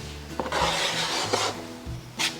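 Putty being mixed with a little water on a board with a putty knife: a few scraping, rubbing strokes of the metal blade, close and moderately loud, with no talking.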